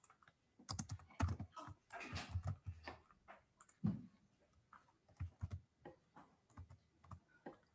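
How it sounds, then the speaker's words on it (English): Rapid, irregular keystrokes on a computer keyboard during a programming session, close and fairly quiet, with clusters of clicks and brief pauses throughout and no speech. "Sorry for the typing."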